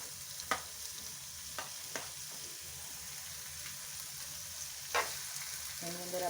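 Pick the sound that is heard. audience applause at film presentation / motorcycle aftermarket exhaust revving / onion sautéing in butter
onion sautéing in butter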